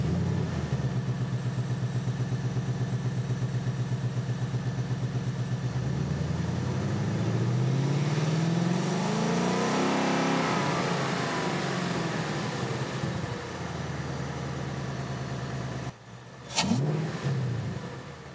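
A 2022 Ford Mustang fitted with a cold air intake starts up and idles loudly nearby, then its engine revs up in a long rising and falling swell before settling back to a steady idle.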